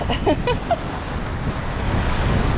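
Strong wind by the water buffets the microphone with a steady roar, faint surf-like wash underneath and a few brief tonal chirps early on.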